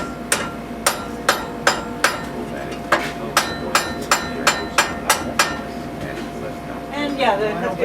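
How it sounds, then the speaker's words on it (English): Metal hammer blows drive a part down into place with a monkey tool while the work is held in a vise, a dozen sharp, evenly spaced strikes ringing close up before they stop and a faint voice follows. "I'm using a monkey tool to drive it down."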